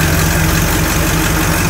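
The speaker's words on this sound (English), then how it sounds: "It's idling nice." A Chevrolet C10 truck engine idles steadily nearby, giving a loud, even low rumble with a regular throb and no talk over it.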